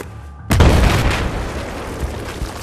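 A loud explosion in Battlefield 4 bursts suddenly after a quiet hum, followed by a long rumbling wash of debris and crackle that slowly fades.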